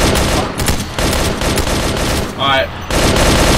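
Loud, dense automatic gunfire in a Vietnam War video game, with M16A1 rifles, as continuous overlapping bursts and a brief pause, while a voice speaks over it.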